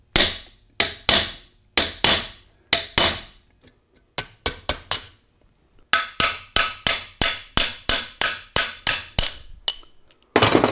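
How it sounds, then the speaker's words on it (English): A hammer taps out the idler shaft of a Borg Warner T86 three-speed transmission with R10 overdrive during a Nash Healey rebuild, in sharp metallic blows, first in spaced groups, then a fast run of close, loud strikes. "What I'm going to do now is just tap out the idler shaft a little bit."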